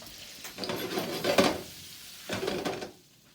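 Eggplants frying in a pan with browned butter, a soft steady sizzle broken by a few louder bursts of stirring and scraping in the pan, close and without talk.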